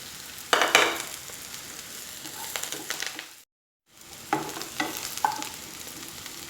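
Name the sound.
onions sautéing in a pan for mushroom gravy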